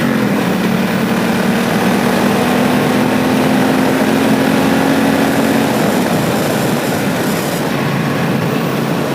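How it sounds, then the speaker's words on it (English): A 1996 Suzuki Intruder VS1400 V-twin motorcycle accelerates hard from a stop. A loud, continuous engine roar rises in pitch, then drops at a gear change, with heavy wind noise and no talk. "Let's see what we can do for a 0 to 60 time."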